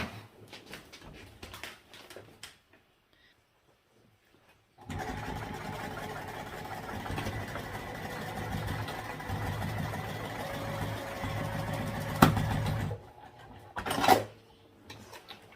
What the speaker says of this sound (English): We'll stitch across 2 or 3 times here, back and forth.